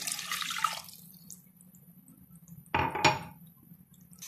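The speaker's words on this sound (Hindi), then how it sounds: "इसके बाद हम यहाँ पर पानी ऐड करेंगे।" Water is poured into a pan of fried masala for kofta curry gravy, giving a short sizzling splash at the start and another brief burst of pouring near the end, with quiet between.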